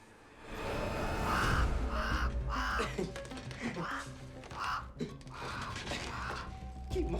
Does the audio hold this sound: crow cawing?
yes